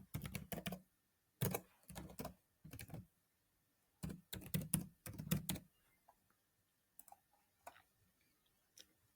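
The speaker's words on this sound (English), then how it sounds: "I'm gonna type my own email." Computer keyboard keys tapped while entering an email address: quick clusters of sharp clicks in bursts separated by short pauses, close and fairly quiet, fading to a few scattered taps toward the end.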